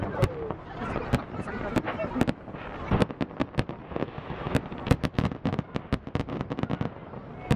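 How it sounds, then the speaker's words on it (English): Fireworks go off outdoors nearby, sharp bangs and cracks arriving in irregular rapid bursts, with people chatting underneath. "so the fireworks just started"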